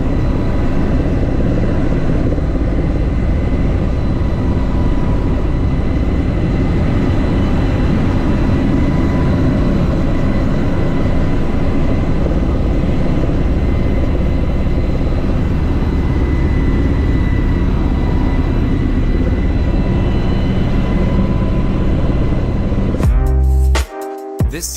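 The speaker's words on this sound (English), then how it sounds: "This low-flying helicopter flying through a valley in New Mexico." A low-flying helicopter passes through a New Mexico valley, its engine and rotors producing a loud, continuous low rumble that holds steady for over twenty seconds before cutting off abruptly.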